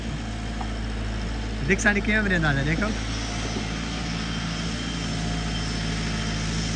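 A Massey Ferguson 385 tractor engine runs with a steady, droning low hum at close range, and someone speaks briefly over it partway through.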